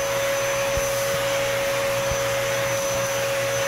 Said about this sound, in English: vacuum it.